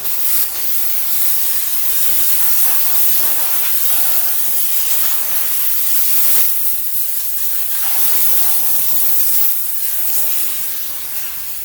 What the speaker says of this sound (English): Now we're going to go back to steam to blast it out at a higher pressure.